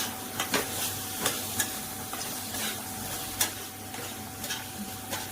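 Spices frying with tomatoes and slit green chillies, stirred in a pan: a soft steady sizzle with scattered scrapes and clicks of the spoon, close and fairly quiet.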